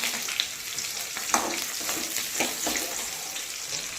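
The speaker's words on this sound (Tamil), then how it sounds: "இப்போ இதில் ஒரு 15 சின்ன வெங்காயம், ஒரு கொத்து கருவேப்பிலை, இதை நல்லா வதக்கிக்கலாங்க." About fifteen small onions and a sprig of curry leaves sauté in hot oil on low heat for a green gram curry, giving a steady close sizzle with occasional soft stirring scrapes, and no talk.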